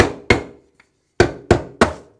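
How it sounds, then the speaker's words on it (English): Candy canes being crushed with a hammer: four sharp, loud thwacks, one followed after a pause by three more in a fairly steady rhythm, each with a brief cracking decay and no talk. "Now the fun part, we get to crush our candy cane."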